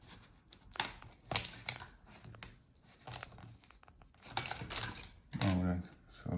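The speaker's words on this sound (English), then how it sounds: "you need to wiggle this plastic piece to disconnect all the clips" Plastic clips on a Lenovo Flex 7 14IRU8 laptop cover are pried loose, giving sharp, irregular snaps and crackles with quieter scraping between them, close and fairly faint, ending in a brief voice.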